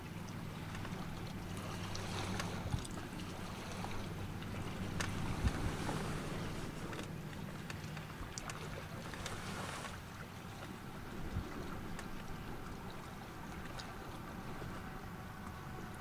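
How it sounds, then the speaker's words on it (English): Wind gusting steadily against an outdoor microphone at a bald eagle nest at Mud Lock, a continuous broadband rumble and hiss that stays loud and unbroken with no talk. "Sorry about the wind, it's been plaguing us all day."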